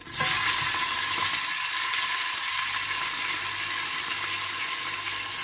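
Chopped onions and whole white cumin seeds fry in hot oil in a pan, giving a steady, close, broadband sizzle that holds at an even level throughout, with no voices.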